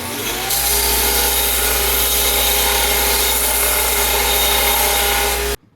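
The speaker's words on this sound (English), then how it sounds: "we'll throw this on the belt sander just for a minute" A belt sander smooths the edge of a wooden board for a kitchen remodel, a loud continuous grinding whir held steady for about five seconds before cutting off abruptly.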